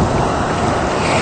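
Ocean waves splash against rocks and kelp along an Australian shoreline, a close, loud, steady broadband wash with wind buffeting the microphone and no voices.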